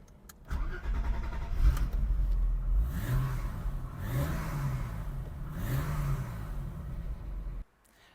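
An old BMW E30 car engine starts up and pulls away, revving through several rising and falling gear pulls close by, before cutting off abruptly near the end, with no voices.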